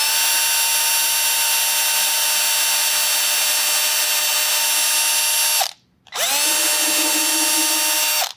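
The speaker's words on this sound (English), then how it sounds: "I'll drill the hole. I'll start out slow to make sure it doesn't walk." A loud power drill whines steadily at high speed, drilling into acoustic guitar wood for a strap button, stops briefly, then spins up again and keeps drilling close by.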